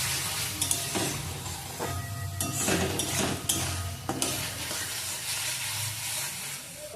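Ground spice masala of cumin and coriander powder sizzles in oil in a pan while being stirred, a steady close hiss broken by scraping clatters of the spoon against the pan, with no voices.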